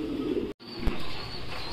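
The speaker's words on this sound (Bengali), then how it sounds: "তো হযরত ভাই এখানে এটা আমরা কি কবুতর দেখছি?" Fancy pigeons at a pigeon farm coo softly in a short, close burst, with a faint background hum and a brief dropout.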